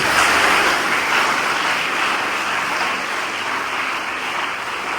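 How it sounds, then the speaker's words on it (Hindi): Applause at a school victory ceremony honouring a district topper, a dense, steady clapping that holds loud throughout and eases only slightly toward the end. "तो एक बार फिर से जबरदस्त तालियां होनी चाहिए।"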